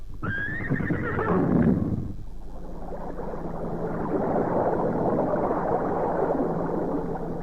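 A loud, close horse whinny opens the scene, a shrill neigh that falls into snorting, followed by a low, continuous rumbling bed, used as a radio drama sound effect.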